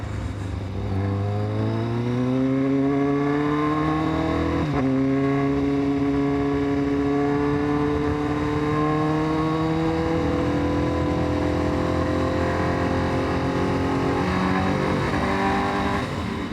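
Close engine sound from a Honda CBR1000RR-R superbike pulling away from a stop, its harmonic whine climbing steadily, dipping briefly with a hesitation around mid-clip, then rising again in a continuous, loud, unbroken run with no talking.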